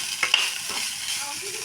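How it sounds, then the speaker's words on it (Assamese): Leftover rice fries in a pan with a steady soft sizzle, while a spatula stirs it in a few quick scraping strokes, close and fairly quiet. "ভাতখিনিও অলপ সময় ভাজি থাকিম।"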